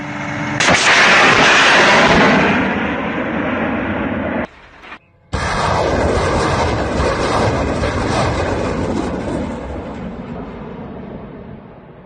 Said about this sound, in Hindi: रूस ने इस्कंदर मिसाइल से किया हमला